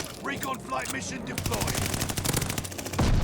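Rapid bursts of Cooper Carbine gunfire in a first-person shooter video game, loud and close, with a brief stretch of speech-like sound before the shots and heavier impacts near the end.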